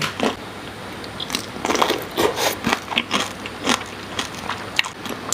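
Someone bites into and chews large cooked snow shrimp close to the mic, with repeated crunchy, crackling bites and wet chewing in an irregular rhythm and no talk.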